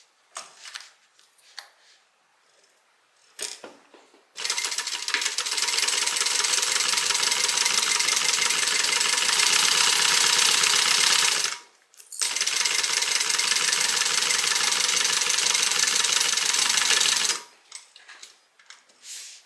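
A sewing machine stitches a sling bag seam in two long, loud, steady whirring runs separated by a brief pause, with quieter handling clicks and fabric shuffling before and after.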